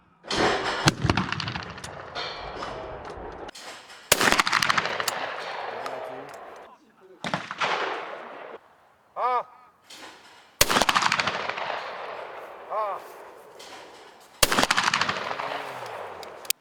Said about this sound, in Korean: 신현우 선수는 지금 연습하지 않고 그대로 쏘고